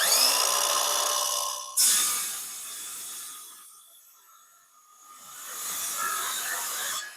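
A power saw cuts wood pieces to length for a washer and dryer cabinet build, producing a loud, close whining cut that drops off sharply, runs down, then spins back up.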